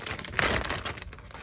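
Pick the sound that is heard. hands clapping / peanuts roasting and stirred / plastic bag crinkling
plastic bag crinkling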